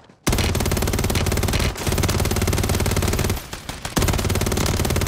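Rapid automatic gunfire in Call of Duty MW3 Warzone hammers on loud and close in sustained bursts, broken by brief gaps before the firing resumes.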